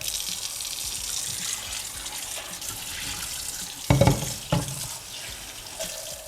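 Water pours steadily from a tap into a sink, a hissing splash with a couple of louder clatters partway through.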